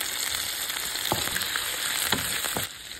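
Liver frying in a pot with gizzard and red bell pepper, heard as a steady close sizzle with a few soft stirring thumps, fading slightly at the very end.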